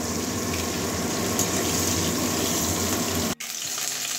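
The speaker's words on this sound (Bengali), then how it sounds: "এবারে পটলটা ভেজে নেব।" Pieces of pointed gourd (potol) fry in hot oil, making a close, continuous sizzling hiss that cuts out briefly just before the end and then resumes.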